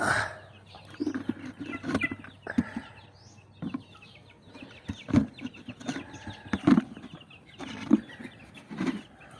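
Pet chicks and chickens cluck and peep steadily during feeding, close by, with scattered louder calls and soft rustling in between.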